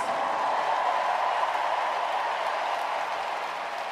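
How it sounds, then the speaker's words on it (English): Sustained crowd applause fills a sold-out Milwaukee Brewers baseball stadium at a Party Animals versus Loco Beach Coconuts game, a steady broadband wash that holds evenly for the whole stretch with no talk over it. "let's give a round of applause for the Loco Beach Coconuts"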